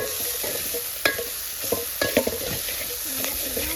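Gravy with spices, turmeric and salt being stirred and fried in a pan, a steady loud sizzle with scraping stir strokes at irregular intervals, close and continuous with no talking.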